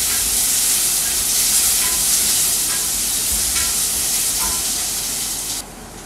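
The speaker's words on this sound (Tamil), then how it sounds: "அடுத்தது சின்ன வெங்காயம், கறிவேப்பிலை, அது 2யும் போட்டு நல்லா வதக்கிக்கலாங்க." Shallots and curry leaves sizzle loudly in hot oil in a home kitchen, a steady close frying hiss with faint stirring scrapes, dropping slightly at the end.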